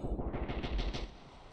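Rapid automatic fire from an E11 blaster cannon in the modded shooter game Ravenfield, a loud, dense burst of repeated shots that tails off near the end.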